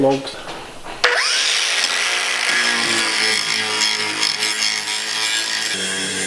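A power drill bites into car body metal, drilling out spot welds, with a sharp start, then grinds and whines steadily for several seconds, close up.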